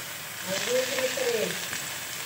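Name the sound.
soybean chunks frying in a pan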